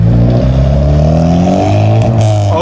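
A loud 2021 VW Polo engine revs hard as it launches with launch control, its deep roar climbing steadily in pitch through the gears, close by.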